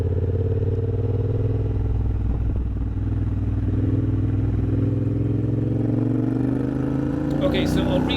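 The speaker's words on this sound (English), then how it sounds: "I'm just going to put a background video of me riding my bike" A motorcycle ridden at steady speed in Edinburgh, its engine a continuous close drone with rumbling low harmonics and wind noise, while a person talks over it.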